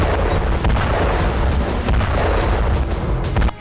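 Howitzer artillery fire during a Russian assault on Ukrainian positions near Odesa, heard as a loud, continuous rumble of dense booms and low-end blasts with no clear gaps, the bombardment filling the whole stretch.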